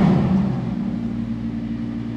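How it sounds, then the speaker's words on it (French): An Audi R8 GT with a sport exhaust gives a loud, close, deep engine drone that swells briefly at the start and then settles into a steady rumble. "Échappement sport."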